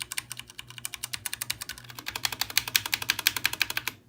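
Rapid, even clacking of a Ducky One Two Mini mechanical keyboard being typed on up close, dozens of crisp keystrokes in quick succession with a few short pauses and no talking.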